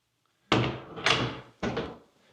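A door in a luxury home is handled, giving three close, sharp knocking thuds in quick succession, each one trailing off briefly, in an otherwise quiet room.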